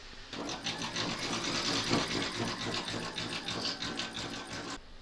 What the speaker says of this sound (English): You're now going to stitch the last round, which is round number nine, and that's the satin stitching around the border and around the heart.